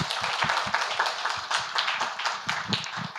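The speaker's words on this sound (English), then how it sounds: "So can we give them one more round of applause?" Audience at an academic conference clapping after a set of presentations, a steady run of close, distinct handclaps that holds at an even level without a break.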